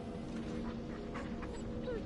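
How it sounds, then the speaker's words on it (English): A dog whimpering, with soft high whines and faint yips over a steady background hum, quiet and close, with a person talking lightly in the background. "There's my dog."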